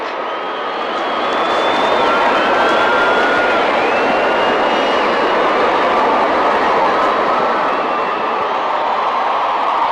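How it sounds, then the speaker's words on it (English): A large stadium crowd at a women's World Cup soccer match between the USA and Brazil gives off a steady, dense roar that swells slightly and stays loud throughout, with faint high whistles drifting over the din. "You can hear the fans getting louder in anticipation for this matchup today"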